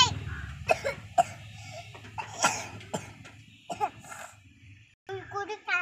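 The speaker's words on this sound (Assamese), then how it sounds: "মোৰ কাহ লাগি গ'ল দেই" A child coughs repeatedly in short bursts, several hacking coughs spread across the moment, close to the mic, with speech before and after.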